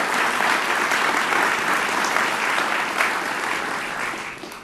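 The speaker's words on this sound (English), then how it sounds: "Could I get a round of applause for Trevor Mills?" A crowd at a high school sports awards ceremony applauds a student athlete, with a steady, dense wash of clapping that holds evenly and then eases off slightly at the end.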